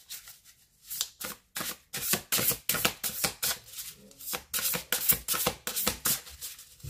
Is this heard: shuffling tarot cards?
yes